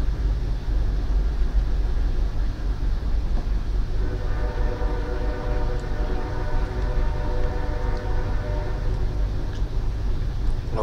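A train rumbles past close by, a steady heavy low roar with rhythmic rail clatter and a rising tonal whine in the second half.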